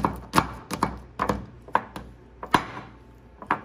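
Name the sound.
crushing Bubbaloo chewing gum pieces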